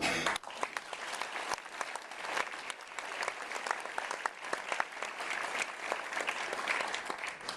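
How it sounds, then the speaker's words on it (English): An audience gives sustained applause for colleagues, a dense, even wash of clapping that holds steady throughout at moderate-to-low volume, with occasional sharper individual claps. "let's give our colleagues a big round of applause"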